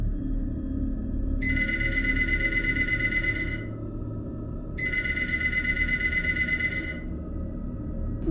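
A telephone bell rings in two long bursts with a pause between them, set over a low, dark ambient drone in a Tagalog horror story.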